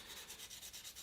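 Quiet rhythmic rubbing of sandpaper on wood by hand, quick back-and-forth strokes repeating evenly.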